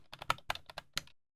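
Several quick keystrokes on a computer keyboard, typed in a short uneven burst of clicks, close and quiet, with no one speaking.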